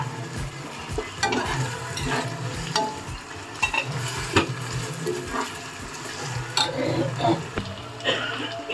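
Ginger garlic paste frying for mutton biryani gives a continuous close sizzle, broken by scraping and stirring clatter from the utensil in the pan, with faint voices now and then.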